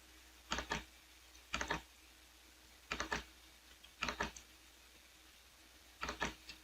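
A short PLC program being typed on a computer keyboard: five separate little clusters of two or three key clicks spaced about a second apart, quiet and close in a still room.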